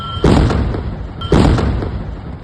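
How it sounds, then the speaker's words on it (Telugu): A gas cylinder explodes, heard as two loud, close booms about a second apart, each with a heavy low-end burst that decays slowly. "వెంటనే సిలిండర్ వేలుడు"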